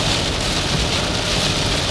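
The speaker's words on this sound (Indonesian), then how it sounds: "ini hujannya deras nih" Heavy rain drums steadily on a moving car during a road trip toward Jogja, a dense, continuous wash of noise heard from inside the cabin, close and loud with no pauses.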